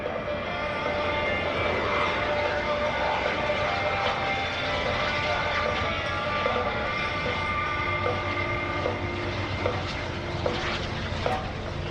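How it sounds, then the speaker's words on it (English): A PBS TJ100 jet engine on a sailplane roars steadily and loudly throughout at an airshow, a constant high-pitched whine over a broad rushing noise. "the throttle forward on that TJ100 jet engine from PBS in the Czech Republic"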